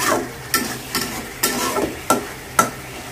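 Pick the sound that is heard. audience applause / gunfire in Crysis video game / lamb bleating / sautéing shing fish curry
sautéing shing fish curry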